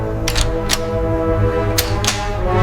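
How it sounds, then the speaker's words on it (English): A torque wrench clicks while head bolts are tightened in sequence on a Rolls-Royce Silver Wraith engine under restoration, four sharp close clicks spaced irregularly over a steady low hum. "Head bolts torqued in sequence, click by counted click,"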